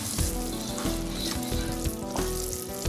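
Koyla chicken with garam masala, fried in a pan, sizzles loudly and continuously while being stirred, with repeated scraping strokes every half second or so.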